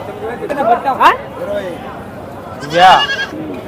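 Goats bleat twice, loud and wavering, over a background of crowd chatter and people talking at a busy goat and sheep market.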